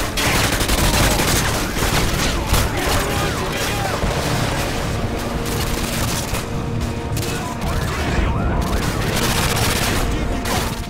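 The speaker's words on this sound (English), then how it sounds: "they really trying to shoot us with an RPG" Dense, continuous gunfire and blasts from a Modern Warfare 2 firefight, with rapid automatic bursts and booming explosions from an RPG attack packed together at close range, while a voice talks over the chaos.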